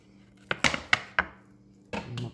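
Cherries being chopped for Christmas cookies with a knife on a cutting board: a handful of sharp, close knife strikes in an uneven rhythm, then a short burst of scraping chops, with no one speaking.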